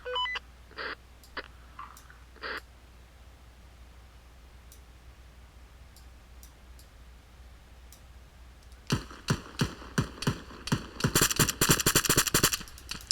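Bursts of automatic and rifle gunfire from the military shooter Arma 3: a few scattered sharp cracks early on, then a dense run of rapid, loud volleys and repeated shots over the final few seconds, with no voices.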